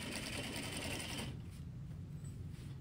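A sewing machine stitching a zipper for a box cushion, whirring in a fast steady mechanical buzz for about a second before easing into quieter, softer running.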